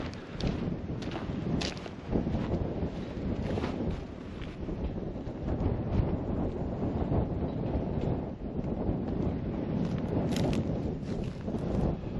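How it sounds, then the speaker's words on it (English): Wind blowing outdoors in dusty weather, a steady, loud, rumbling rush that buffets the microphone throughout, with slight gusts rising and falling and no voices. "This weather and the dust and the wind"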